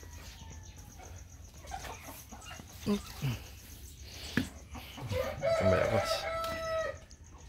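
Native chickens in their coop cluck and call in irregular bursts, with a crow-like cry rising near the end, against a low background hum, and a voice briefly speaks.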